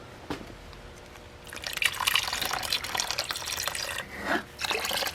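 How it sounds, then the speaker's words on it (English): Engine coolant draining from a car's radiator into a drain pan, a steady close trickle and splash of liquid that swells into a fuller pour partway through, with a few drips. "You screw it, the lid, and you drain it into the pan."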